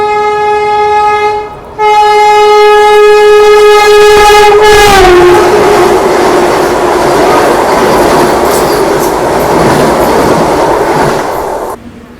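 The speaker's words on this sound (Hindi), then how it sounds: "पर पता नहीं क्यों अपने ट्रेन का डिटेंशन बढ़ा के वंदे भारत को पास करवाया जा रहा है।" A Vande Bharat Express overtakes the Mizoram Rajdhani Express near New Jalpaiguri, opening with a loud sustained horn that slides down in pitch, then giving way to a steady roaring rush of passing coaches that cuts off abruptly.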